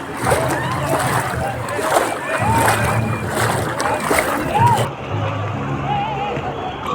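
Pilgrims wade and bathe in the Chandrabhaga river at Pandharpur during Ashadhi Ekadashi, with steady splashing and sloshing water under a busy murmur of crowd voices and nearby talk.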